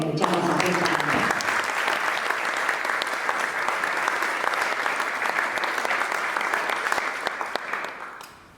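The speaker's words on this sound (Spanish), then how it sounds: "La recibimos con un aplauso y la escuchamos atentamente." A voice speaks briefly, then an audience at a university ceremony for a UNESCO recognition bursts into loud, sustained applause welcoming a speaker, holding steady before fading out at the end.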